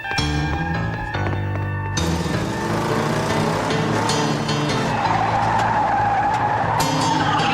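A car skids hard with a sustained tire squeal over a loud engine roar, the screech staying close and continuous throughout with no voices.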